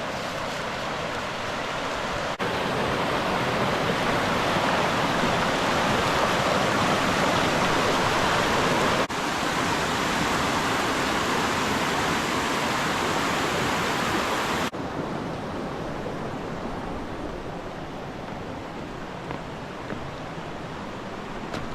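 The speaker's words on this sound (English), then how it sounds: "Love walking along creeks like this." Creek water flowing over bedrock and stones on a woodland hiking trail, a loud, continuous rushing wash that stays steady throughout, close by, with no voices.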